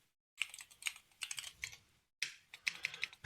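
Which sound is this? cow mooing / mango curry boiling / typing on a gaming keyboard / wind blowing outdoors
typing on a gaming keyboard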